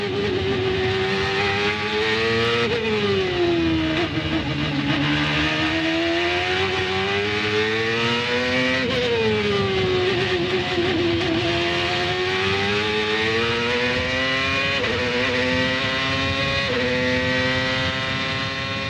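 Onboard engine of a 2001 CART open-wheel race car, loud and continuous, rising and falling in pitch as it revs through gear changes across the lap, with no talk over it.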